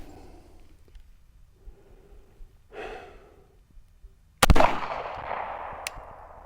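A single sharp gunshot during a shooting test with a Garmin Xero C1 Pro chronograph cracks loud and close after a few seconds of quiet breathing, then fades into a short ringing decay.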